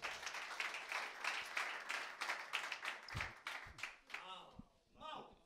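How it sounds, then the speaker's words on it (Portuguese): Crowd applause and cheering at an anniversary special comedy show rolls along for about three seconds, dense and steady, then thins out as a voice begins talking over the fading claps. "Aplausos para Colo a Tremura, família!"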